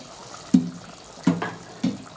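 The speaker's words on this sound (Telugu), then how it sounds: "ఒక రెండు గ్లాసులు వాటర్ పోసేసుకుందామండి" Water splashes in short bursts, about four pours into a pot of tomato-based mutton curry, close and fairly loud.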